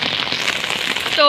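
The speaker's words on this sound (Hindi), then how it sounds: "यहाँ पर बहुत ज़्यादा तूफानी बारिश हो रही है" Heavy stormy rain in Lahore pours down in a dense, hissing patter of drops hitting surfaces. It stays loud and constant throughout, with a brief voice cutting in at the very end.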